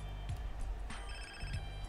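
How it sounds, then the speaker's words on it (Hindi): A phone rings in GTA San Andreas, a faint repeating electronic trill heard twice in two seconds against low game background noise. "यहाँ पे फ़ोन बजने लग रहा है, फ़ोन उठाऊँ क्या"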